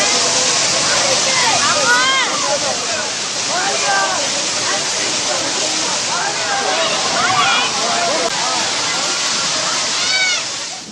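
Agasthiyar waterfall in Nellai district, with many tourists and their families bathing, gives a steady loud rush of falling water and splashing, with many overlapping voices and shouts of the crowd running throughout.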